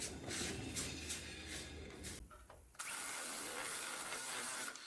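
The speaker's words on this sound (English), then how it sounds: "Now we're just going to cut the heads off of those rivets and get them out of the way" A power tool cuts the heads off rivets on a rear suspension hanger during a DIY 4-link install, grinding loudly and steadily with a brief drop in the middle before resuming at full volume.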